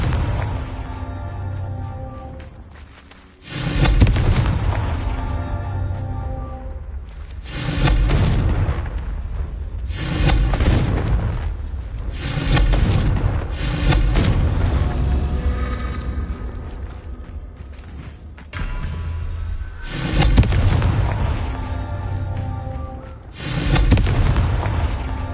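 Confringo spell blasts in Hogwarts Legacy go off as a run of heavy booming explosions, about eight loud, close bursts spaced a few seconds apart, each with a rumbling tail.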